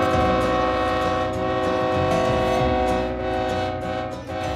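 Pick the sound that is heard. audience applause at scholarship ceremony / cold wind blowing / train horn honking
train horn honking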